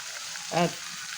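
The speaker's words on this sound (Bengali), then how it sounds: "খুব ভালো করে কষিয়েছি একদম ভাজা ভাজা করে ফেলছি" A soft, steady sizzle of duck meat frying in a pan without water, with a short voice sound in the middle.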